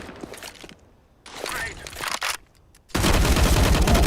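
Counter-Strike gunfire with AK rifle shots on the Dust 2 map, heard as sharp bursts and rapid fire, ending in a dense loud volley, with footsteps and game noise between.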